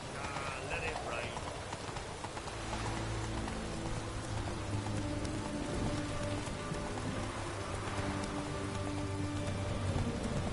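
Rain in the video game The Witcher 3, a steady dense patter pouring across the whole scene, with horse hooves clip-clopping faintly beneath and a low musical drone.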